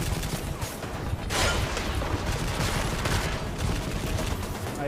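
In Deus Ex: Mankind Divided, a thick burst of gunfire rattles on without pause, with a muffled blast partway through, loud and dense throughout.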